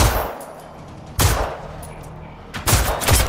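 Gunfire in the video game Generation Zero: a few loud, sharp bursts stand out, one near the start and a clustered pair toward the end, over a steady background rumble.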